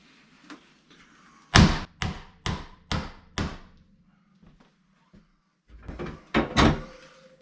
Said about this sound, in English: I'm going to put a nail in through here, through this spacer into the stud to hold it so it doesn't move up and down